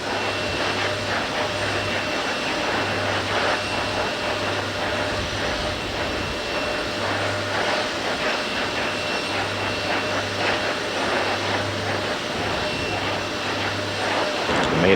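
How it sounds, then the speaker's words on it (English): Space Shuttle Columbia's main engine helium purge runs before main engine start as a loud, steady broadband roar of rushing gas, with a low hum pulsing on and off beneath it. "This is the main engine helium purge sequence, which prepares the engines for main engine start."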